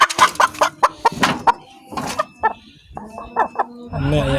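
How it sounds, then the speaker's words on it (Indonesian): Chickens clucking and squawking close by in a coop in Indonesia, a series of short clucks with a louder burst of fowl noise at the end. "Di sini kandang ayam, teman-teman."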